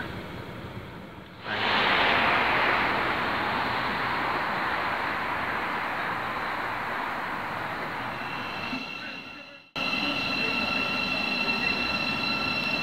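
A train on a railway line beside a pub in Flitwick, Bedfordshire, rushes past nearby with a loud, steady roar of wheels on track that swells in abruptly, holds, then cuts off, followed by lingering rumble.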